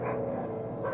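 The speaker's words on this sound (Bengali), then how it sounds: "কুকুরগুলো তখনও ঘেউ ঘেউ করে শূন্যে কামড় বসাচ্ছে।" A pack of dogs barks and snaps at empty air on a winter night, a brief, close burst of dense barking with no voices over it.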